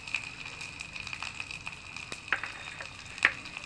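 Onion, tomato and garlic fry in a hot pan with bay leaf, giving a faint, steady sizzle with a few sharp crackles and spatters scattered through it.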